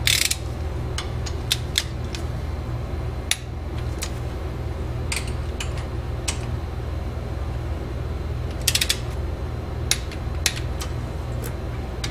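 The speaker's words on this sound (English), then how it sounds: "that's my torque wrench to 18 foot-pounds." A torque wrench tightens bolts to 18 foot-pounds while an LS1 water pump goes onto a Trailblazer SS. Scattered sharp metallic ratchet clicks, near and fairly loud, sound over a steady low hum with no talking.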